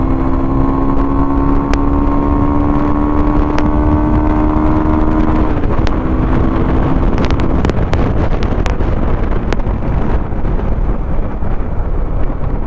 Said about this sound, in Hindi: It's fun to ride bike in the traffic.